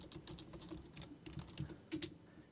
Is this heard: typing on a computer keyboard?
yes